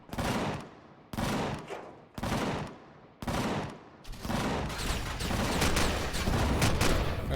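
Turrets fire in the space survival game Empyrion Galactic Survival: four loud bursts of gunfire about a second apart, then a dense continuous barrage of rapid shots with no talking.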